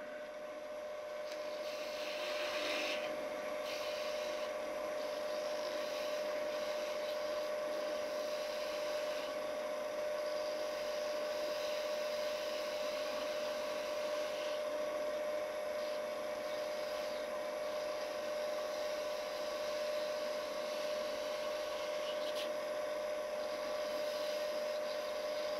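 Wood goblet being turned on a small lathe with a 1/4 inch spindle gouge, cutting a tulip-shaped cup: a steady motor whine runs throughout with a soft scraping hiss of the cut, continuous and close, with no talking.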